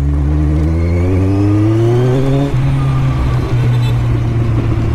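A Kawasaki Z1000 motorcycle engine revs up loud and close as it pulls away from a signal, pitch climbing steadily, dipping at a gear change, then holding a strong drone.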